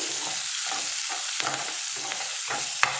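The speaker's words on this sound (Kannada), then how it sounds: "ಸೊ ಇವಾಗ ಆನಿಯನ್ನು ಹಾಕಿದ್ದೀನಿ ಇದನ್ನು ಒಂದೆರಡು ನಿಮಿಷ ಫ್ರೈ ಮಾಡೋಣ" Onion fries with ginger garlic paste and spices in a steady, close sizzle, with rhythmic stirring strokes every half second or so and a sharp metallic clink near the end; nobody speaks.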